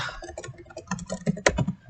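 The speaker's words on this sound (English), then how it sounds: "we'll just go ahead and start typing out all of our different properties." Keys clatter on a computer keyboard in quick, uneven bursts of close clicks and taps, with one sharper keystroke near the end, with no speech over it.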